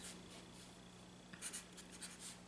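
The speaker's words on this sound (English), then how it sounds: "So let's go ahead and write that down." Handwritten notes for a calculus lesson on infinite limits, with soft continuous pen-on-paper scratching and a few brief stroke accents, faint under a steady background hum.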